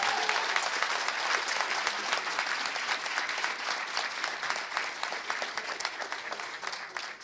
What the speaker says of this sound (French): Alors, une bonne main d'applaudissements pour Mme Beauchamp.